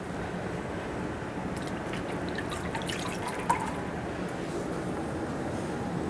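Running water rinses a facial mask off, a steady broadband splash and trickle from a tap with one small drip-like tick partway through.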